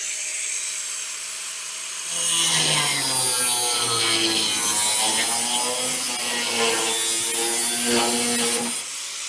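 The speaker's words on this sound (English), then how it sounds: "And then we need to cut it along that line there" A power tool cuts through the steel bed side of a 1965 Chevrolet C10 pickup with a loud, steady, high whine that wavers in pitch for about seven seconds after a quiet start.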